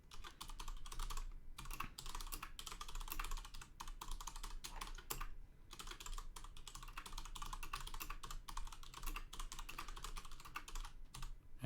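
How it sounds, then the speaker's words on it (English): Steady, rapid typing on a mechanical computer keyboard fills the whole stretch, dense clicky keystrokes close to the microphone with only a couple of brief pauses. "And yes, I do have a mechanical keyboard."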